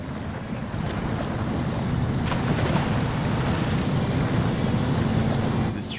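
A truck in the video game SnowRunner ploughs through water flooding a road in Alaska, giving a steady broad wash of splashing and rumble with wind-like noise that holds constant for several seconds, with no talk.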